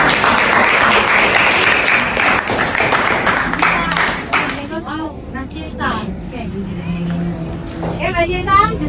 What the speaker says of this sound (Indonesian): Kita beri aplaus untuk Mbak.